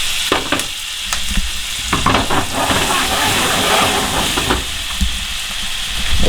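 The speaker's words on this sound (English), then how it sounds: "and then we're gonna saute" Shallots and garlic sauté in a hot pan for beef steaks, a close, steady sizzle broken by stirring scrapes and clacks, with no talking.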